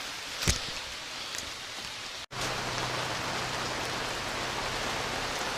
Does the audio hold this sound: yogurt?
no